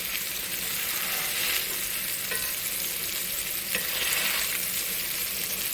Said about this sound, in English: So I sear it and brown it, let some of that fat come cooking out of there.